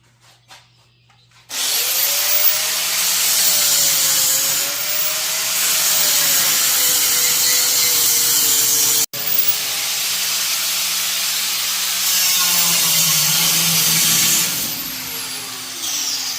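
A power tool cuts through metal tubing in a homestead tool shed, a loud continuous hissing, grinding whine that starts abruptly, breaks off for a moment, then resumes and tails off.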